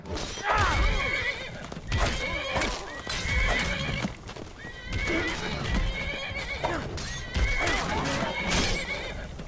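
War horses in the game Skyrim whinny loudly and repeatedly, with several drawn-out neighs over a dense backdrop of hoof clatter and thuds, close and continuous.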